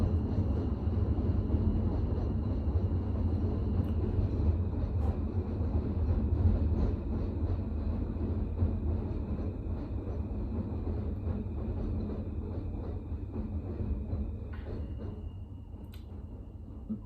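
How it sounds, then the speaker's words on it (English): A train rumbles past in the background, a faint, steady low roar that slowly fades, with thin tonal squeals running over it. "Is that another train?"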